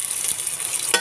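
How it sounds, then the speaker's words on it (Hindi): Chopped onion and chillies frying in hot oil for a dal, a steady close hiss of sizzling with a brief louder crackle near the end. "इसे लाल होने के लिए भूनना है"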